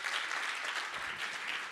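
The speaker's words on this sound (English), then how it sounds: "A bigger applause for Aline, please." A room full of people claps for a speaker at a startup cohort's final demo day, a steady, dense wash of applause holding at even loudness throughout.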